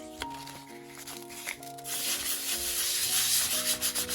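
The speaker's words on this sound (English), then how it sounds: "I left it as it was, hoping they will come off nicely when I sand." Sandpaper rubbing over a gesso-coated canvas in steady strokes, close by, growing louder and more continuous toward the end, with a faint steady tone in the background.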